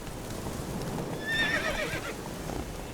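Roach, a horse, gives a short high whinny over a steady background of hoof clip-clops and rustling, close and moderately loud, with no talk.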